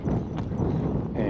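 A saddled mare's hooves clip-clop at a brisk trot, giving a quick, close rhythmic series of thuds over a steady rustling background.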